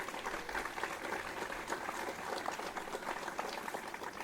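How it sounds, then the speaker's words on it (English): Graduation ceremony audience applauding steadily for a recognized guest, a dense, even wash of clapping throughout at moderate distance. "Let's give him a round of applause."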